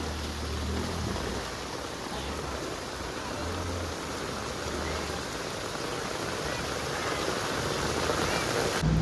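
Heavy rain pouring down in Pasodara village during flooding, a dense, steady roar of rainfall without a break, with a faint low rumble underneath.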